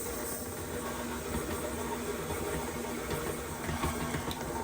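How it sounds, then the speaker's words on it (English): Electric mixer creaming softened butter and sugar for an old-fashioned fruit cake, a continuous whirring motor drone with a gritty churning texture, steady and moderately close, no voices. "Blend until creamy."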